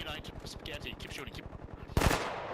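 Rapid automatic gunfire in the Bellum video game, a fast regular string of shots over about two seconds, then a single louder blast, with faint game background noise.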